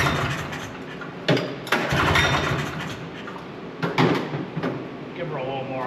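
A free vintage snowmobile engine with a suspected air leak sputters and surges, its revs rising in uneven bursts at close range. A few loud knocks and rattles are mixed in, and a person talks over parts of it.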